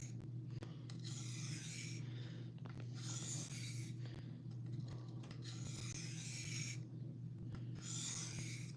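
Knife being sharpened with repeated rasping strokes of steel across a stone or rod, in regular bursts roughly every second or two, over a steady low hum indoors; no talking.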